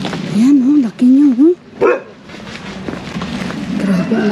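A big dog barks several times close by in short bursts, followed by a whimpering yip, outdoors during a festival day in Nepal, with quiet background noise between barks.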